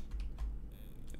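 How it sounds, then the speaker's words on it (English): A single computer keyboard key is pressed, a short soft click against a quiet room background. "Pressing 2 on my keyboard"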